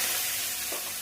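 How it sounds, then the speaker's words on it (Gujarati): Tempering of mustard seeds, cumin, turmeric, curry leaves, chillies and tomato for Gujarati dal dhokli, a close, bright, hissing sizzle in hot oil that lasts a brief second. "દાળ ઢોકળીનો વઘાર"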